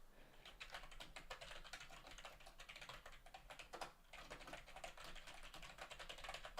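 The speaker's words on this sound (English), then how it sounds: "I'm typing to her, but I don't think she's reading it." Rapid typing on a computer keyboard, a dense run of close, crisp key clicks that continues steadily with only a brief pause near the middle.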